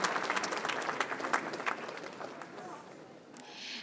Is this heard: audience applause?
yes